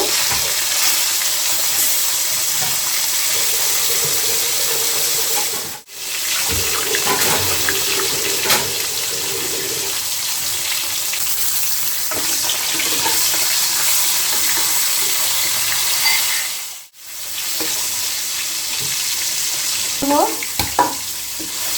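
Koi fish fry one by one in hot oil for Bengali tel koi, a loud continuous gushing sizzle that cuts out twice briefly, with faint stirring and spatters near the end.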